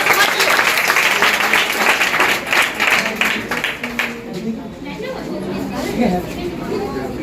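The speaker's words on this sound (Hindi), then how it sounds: "तो इनके लिए जोरदार तालियां बजाएं।" An audience applauds at a competition prize giving, dense clapping that swells at first and then thins, with someone talking and crowd chatter over it.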